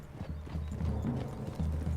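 Horses in Red Dead Redemption 2 clop steadily over a wooded clearing, hooves thudding in a continuous uneven rhythm at close range, with a faint whinny and no speech.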